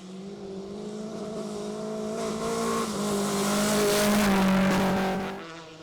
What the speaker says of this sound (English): Jody van Zumeren and James Johnson in the Datsun 510 Coupe now leading the regional part of the rally.